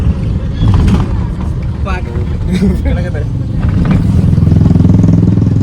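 A scooter engine drones and rises as it passes close by in Mangalore, with someone talking over the motor noise.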